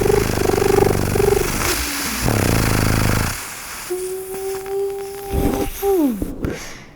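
An alien helicopter toy gives off a harsh buzzing electronic whir. It shifts into a steady whining tone that wavers and then bends downward, loud and close.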